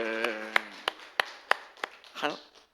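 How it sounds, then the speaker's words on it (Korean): A church congregation claps to welcome a returning member, a handful of sharp separate claps ringing out close and fairly quiet, with voices speaking around them. "우리 박수로 환영하겠습니다"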